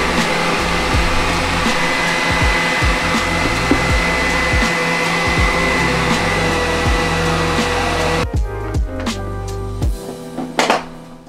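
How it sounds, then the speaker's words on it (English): A hooded hair dryer blows with a steady, loud whoosh and low hum, then cuts off near the end, leaving brief clicks and shuffling. "I'm gonna sit in the dryer for like 5 minutes real quick"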